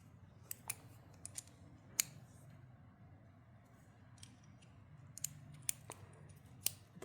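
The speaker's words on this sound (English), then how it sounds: "And then a little ratcheting action there." Small clicks from a Duratech mini T-handle ratchet, a handful of sharp, quiet ticks scattered irregularly over a low steady background hum, with no talking.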